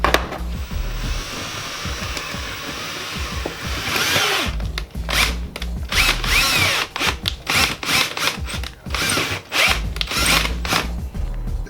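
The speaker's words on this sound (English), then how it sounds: "And then I used the drill with the drill bit" Power drill with a bit drilling out a part on a custom spark plug wire project, a loud buzzing whine in several bursts with short pauses, close up and without talk.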